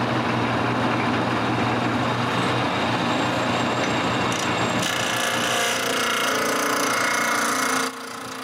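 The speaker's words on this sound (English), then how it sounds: "I put my big glue up on the lathe and turn a cylinder" Wood lathe turning a large glued-up wooden blank into a cylinder, a loud steady motor hum with continuous rough cutting and scraping of the tool against the spinning wood, changing tone partway as the cut shifts.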